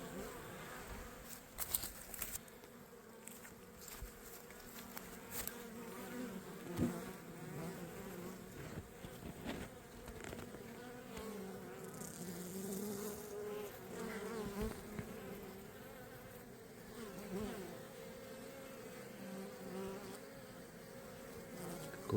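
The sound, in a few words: honey bees buzzing at the hive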